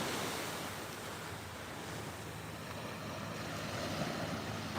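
Steady, continuous surf rolls onto a Florida beach at Lauderdale-by-the-Sea, a dense wash of breaking waves mixed with light wind buffeting the microphone, with no voices.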